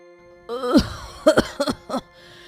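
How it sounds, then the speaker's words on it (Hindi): A woman coughs hard in a rural home, several harsh, separate bursts after a strained vocal onset, close and loud in a quiet room. "बहुत तेज खांसी हो रही है।"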